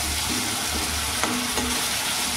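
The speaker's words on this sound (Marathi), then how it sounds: "टोमॅटो आपल्याला शिजवून घ्यायचे आहे, जरा मऊसूर होईपर्यंत।" Tomatoes frying in a pan for capsicum and potato sabzi, a steady close sizzle with brief stirring scrapes.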